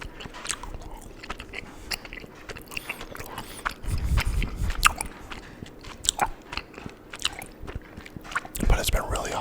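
Chocolate gummy bears being chewed close to the microphone, with soft, repeated sticky chewing and biting sounds in an uneven rhythm, louder in short bursts.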